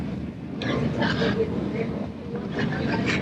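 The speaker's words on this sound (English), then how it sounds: "Probably get the train going into the tunnel." Steady rumbling rail noise from a moving train, with voices talking over it and rising bursts of rushing air as the carriage enters an enclosed space.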